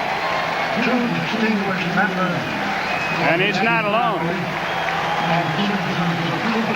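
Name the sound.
baseball stadium crowd cheering as Yogi Berra throws first pitch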